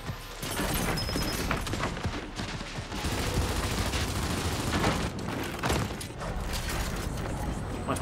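Gunfire from Gears 5 multiplayer, including sniper shots, forms a dense, continuous barrage of shots and mechanical clanks mixed with game effects throughout, with no clear speech.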